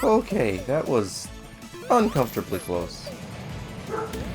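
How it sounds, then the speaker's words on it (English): Yips and barks from a dog sound in the background, mixed under someone talking over video game audio. "Sorry if you hear the dog barking in the background."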